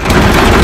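Heavy rain mixed with hail pounds down outdoors, a loud, dense, continuous roar of impacts filling the brief moment.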